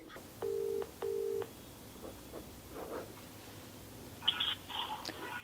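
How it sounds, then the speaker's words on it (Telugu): A telephone being dialed for a call in a Telugu drama: two steady keypad tones sound, followed by faint line noise and a brief burst of higher tones near the end. "ఓకే, నేను కాల్ చేస్తాను."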